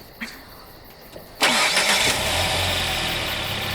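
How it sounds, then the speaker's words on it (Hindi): A car engine cranks briefly, catches with a sudden loud burst and settles into a steady, rumbling idle that continues to the end. "क्रिस्टीन, क्या तुम इंजन चालू कर सकती हो?"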